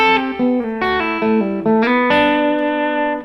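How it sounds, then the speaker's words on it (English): An electric guitar with distortion and effects plays a short progression built on sixth intervals. Paired sustained notes shift step by step and ring out loud and close, with no speech. "In this example we're using the 6th interval. You can hear this in a lot of songs."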